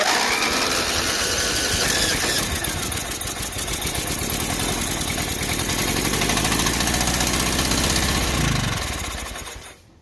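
A 1984 Agway 1842 garden tractor built by Murray runs its engine with a loud, close, continuous rough chugging that dies away at the very end.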